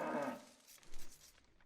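A cow moos softly in a strategy video game, a brief, faint low lowing call that trails off quickly.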